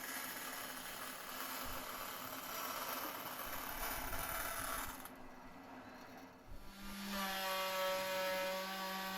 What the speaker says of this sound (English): Just cutting the cover for the back cavity. I'm just going to use some offcuts of Zebrano that I have.